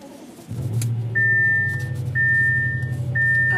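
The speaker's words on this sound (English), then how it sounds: "while my car is heating up" A hatchback car engine cranks and starts, then settles into a steady low idle rumble heard from inside, with a high electronic warning chime beeping three times over it.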